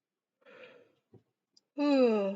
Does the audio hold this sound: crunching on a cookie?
no